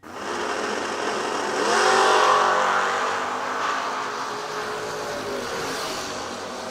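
An S10 Blazer and a Tennessee Camaro launch side by side at a drag strip, a loud, sustained engine roar that swells sharply around two seconds in, then holds steady with crowd and track noise.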